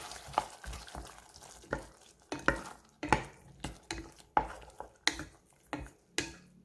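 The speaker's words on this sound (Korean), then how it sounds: "검은 후춧가루 살짝 넣어서 골고루 저어주시고" Beef stew seasoned with salt and black pepper is stirred in a pot, giving a close series of repeated scraping, sloshing strokes at an uneven rhythm, with no one talking.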